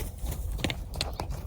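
A paint horse's hooves clop in a few quiet, irregular steps on the ground as it spooks.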